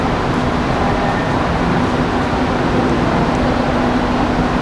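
Loud, steady rumble of a second-class air-conditioned Thai railway train from Bangkok to Hat Yai at a station, constant and close, with a faint tonal hum running through it.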